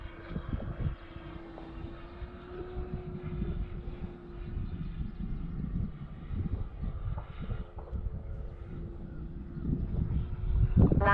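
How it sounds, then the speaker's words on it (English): A Seagull Models T-6A Texan II balsa RC airplane flies past outdoors, its engine a steady droning hum that swells and fades with wind buffeting the microphone, fairly distant and without talk. "Next time around, I'll bring it down for a slower pass."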